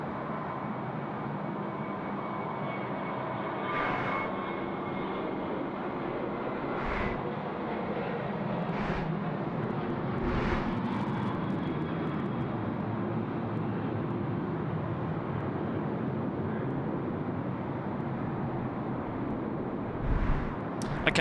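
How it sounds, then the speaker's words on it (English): A Boeing 737-800 airliner rolling for takeoff on runway 34 left at Sydney Airport, heard as a broad steady engine roar at a distance with some scattered thumps. "The 737-800 now rolling 34 left."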